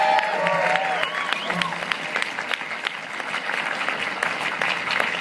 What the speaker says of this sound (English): Yeah, applause again for Terry.